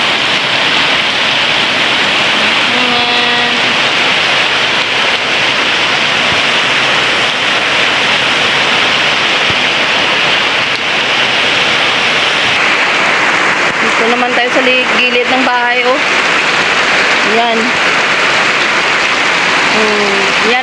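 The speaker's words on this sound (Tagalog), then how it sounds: "Buti ngayon oh, umulan oh." A sudden summer downpour falls on garden plants as a loud, constant hiss of rain that runs throughout, while a voice speaks intermittently over it.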